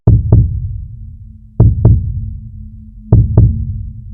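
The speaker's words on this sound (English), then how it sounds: "Tartarus, when you listen to it, sounds like it has a heartbeat." Heartbeat-like audio tied to the planet Tartarus: three loud, close double thumps, each pair a lub-dub followed by a lingering low hum, repeating at an even, slow pace.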